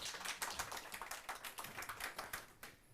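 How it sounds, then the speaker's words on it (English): Steady applause from a conference audience after a talk, dense overlapping claps at moderate volume that thin out and fade near the end. "Witold Sosnowski, huge applause."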